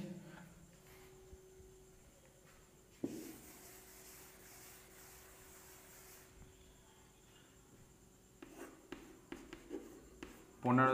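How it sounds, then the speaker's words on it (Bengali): A board being wiped clean during a reasoning class: a soft rubbing swipe lasting a few seconds, set among quiet classroom noises, light taps and a speaking voice. "এটাই মুছে দিচ্ছি"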